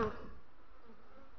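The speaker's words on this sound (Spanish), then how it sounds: "la abeja bufa, que está bastante fuerte" A dense, steady buzzing of many Buckfast honeybees at close range at a hive during feeding, droning continuously without pause.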